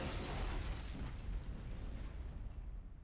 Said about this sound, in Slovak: Čo práve buchlo?